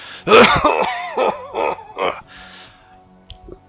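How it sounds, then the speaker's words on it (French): A harsh fit of coughing, several raspy hacks in a row close up, tapering off into quieter throat sounds and silence. "Vous voyez qu'il tousse beaucoup."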